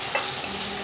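Milkfish (bangus) frying in a pan, a steady, close hiss and sizzle of hot oil filling the short moment without talk.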